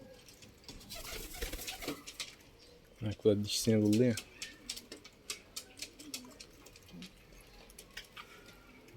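Pigeons coo in a short burst of a few throaty calls partway through, near and fairly loud, while people talk and light clattering noises continue around them.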